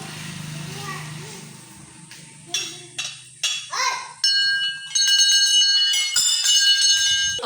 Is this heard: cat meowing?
no